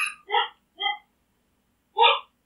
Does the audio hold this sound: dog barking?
yes